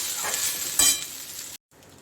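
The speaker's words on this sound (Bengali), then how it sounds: "ওই ভাতটাই আমি এখন ভেজে দিচ্ছি" Leftover rice fries with spices in a pan, a soft crackling sizzle with a stir-scrape burst near the middle before the sound briefly drops out and resumes faintly.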